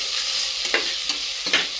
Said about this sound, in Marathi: असं मस्त मसाल्यामध्ये फ्राय करून घेतले